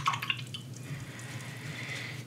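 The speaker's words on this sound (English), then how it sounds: "And let's wash the brush." A paintbrush is rinsed in water while painting a colourful panda, giving soft dripping and sloshing liquid sounds, quiet and close, with no talking.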